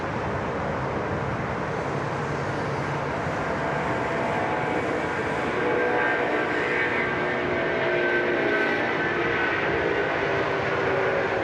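An Airbus A330 airliner taking off at Sydney Airport bound for Kuala Lumpur: a broad, continuous jet engine roar heard from a distance, swelling gradually louder toward the end.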